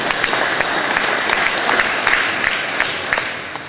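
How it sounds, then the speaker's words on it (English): Applause at a Donegal County Council election count late at night, a steady crowd of clapping hands with sharper individual claps standing out, fairly close and loud. "give a round of applause to the media"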